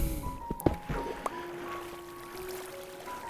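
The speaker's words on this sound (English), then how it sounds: "the water should flow all the way to the edge and then stop" Water flowing out in Minecraft after a block is broken, a soft trickling wash under a few clicks and thuds, with faint tonal game sounds drifting through.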